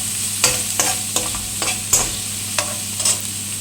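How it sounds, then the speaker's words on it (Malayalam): Onion and garlic sautéing in a pan with popped mustard seeds, with a steady close sizzle and repeated spatula scrapes and taps at an uneven rhythm, and no talking. "കടുക് പൊട്ടിയതിലേക്ക് വെളുത്തുള്ളിയും സവാളയും ചേർത്ത് കൊടുക്കാം. നമുക്ക് ഇത് നന്നായി ഒരു ബ്രൗൺ കളറാവുന്ന വരെ നമുക്കൊന്ന് വഴറ്റിയെടുക്കാം"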